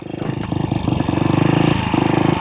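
A 1966 Royal Enfield Continental GT250 single-cylinder motorcycle with engine hung from the frame, idling close up in a steady rapid thumping pulse that rises slightly in level.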